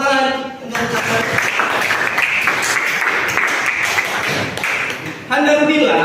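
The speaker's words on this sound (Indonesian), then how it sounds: "Tepuk tangan untuk Anda." A classroom group applauds a student's answer with a dense burst of clapping lasting several seconds, fairly close, with a voice speaking briefly before and after.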